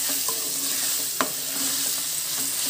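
Grated raw mango being stirred in hot oil in a pan for Andhra-style temple mango pulihora, a steady soft sizzle with scraping spoon strokes and one sharp clink, no talking.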